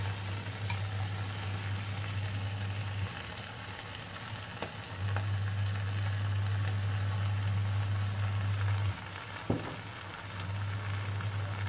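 Rice being stirred into tomato ketchup in a frying pan, a soft continuous scraping and sizzle under a steady low hum, with a brief sharp clink near the end and no talking.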